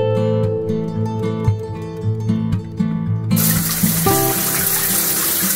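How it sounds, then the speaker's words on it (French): A shower bursts into a strong, steady rush of running water partway through, replacing the tonal music that plays beforehand and continuing to the end. "Ah, une vraie douche."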